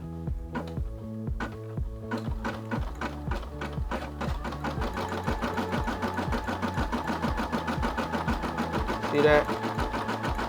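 A Brother SE600 embroidery machine stitching a turkey design, a steady rapid mechanical needle rhythm close up that runs throughout, with a person talking briefly over it.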